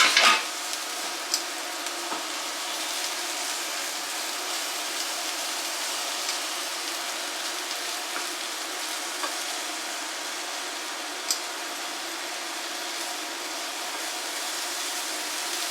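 Food frying in a pan is stirred, giving a steady loud sizzle that runs throughout, with a single clatter of the utensil at the start and a few faint scrapes.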